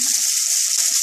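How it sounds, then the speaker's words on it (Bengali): A brief burst of close, steady sizzling as garlic fries in a pan, with a faint touch of stirring. "ফুটো করা রসুনটা দিলাম, অল্প করে একটু ভেজে নেব।"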